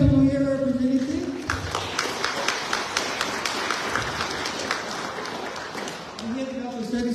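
An audience at a lecture in San Pedro claps, a dense, steady round of applause from a room of people that swells and fades, with someone speaking briefly before and after.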